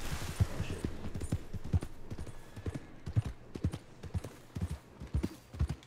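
Horse hooves galloping in the video game Red Dead Redemption II, a steady run of close, punchy clip-clop beats that repeats throughout with no break.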